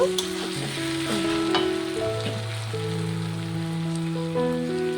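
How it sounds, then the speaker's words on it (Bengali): Vegetables fry in katla fish oil with a steady, close sizzle and crackle, a faint tonal hum running underneath throughout. "আমার মাছের তেল দিয়ে কিন্তু সবজিটা ভাজা হয়ে গেছে"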